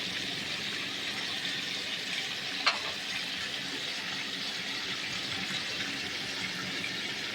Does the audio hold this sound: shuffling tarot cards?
no